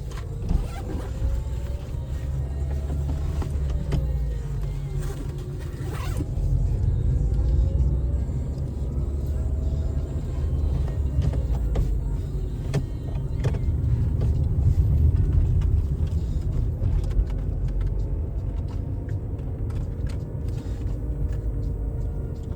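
A car being driven on a road gives a steady low engine and road rumble throughout, with no talking.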